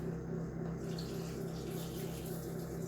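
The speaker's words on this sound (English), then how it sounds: "Okay, I'm just going to put the water in." Tap water pours steadily into a pot for beef bone broth, a continuous close rushing flow with no talking over it.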